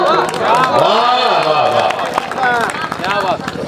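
An audience at a live Hindi kavi sammelan applauds after a poem recitation, a steady wash of clapping running underneath a voice speaking loudly over it.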